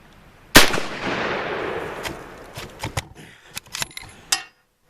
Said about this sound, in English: that's 10 rounds out of the gun